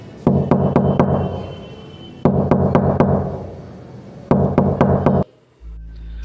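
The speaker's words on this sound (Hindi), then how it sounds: "वो दौड़कर दरवाजे तक पहुंची और दरवाजा खटखटाने लगी।" Knocking on a door at night, three bursts of rapid, loud knocks separated by short pauses, close by, with no voices.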